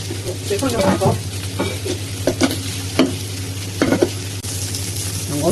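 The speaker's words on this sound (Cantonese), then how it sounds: "家陣咧就煎第2輪啦，" Small yellow croaker sizzles loudly in oil in a pan over high heat, a dense and continuous near crackle broken by a few sharp clinks and scrapes of the pan.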